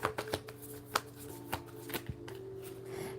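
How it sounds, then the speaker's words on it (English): Playing cards are shuffled by hand during a tarot-style reading, heard as quiet crisp riffles and snaps with a few sharp slaps of the deck, close and soft, with no voice over them. "I done shuffled the cards everywhere"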